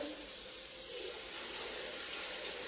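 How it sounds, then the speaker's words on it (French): Running water rinses a Thermomix mixing bowl, a steady faint splashing stream from a tap that continues without pause and without speech. "Là, tout ce que je fais, c'est rincer mon bol."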